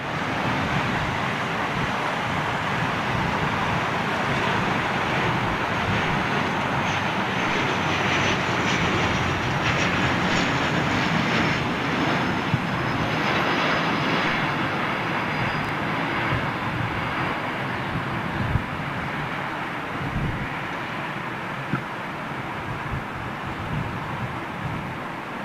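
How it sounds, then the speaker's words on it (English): A jet airliner flies by at London Heathrow, a loud, steady broadband roar that holds for the whole stretch, with a faint whine above it, close to the listener and not fading out. "Flyby."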